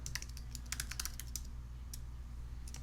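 Rapid typing on a computer keyboard, sharp, irregular clicks in quick bursts close to the mic over a steady low hum in a music production setting.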